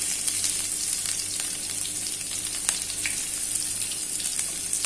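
Onion sizzling and frying in hot oil with cumin seeds in a pan, a steady close crackle with scattered pops and light stirring throughout, no voices.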